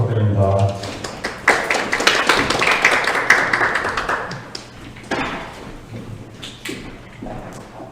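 An audience at an academic conference breaks into a burst of clapping that fades out, with a voice speaking before it and more talk and tapping noises around it.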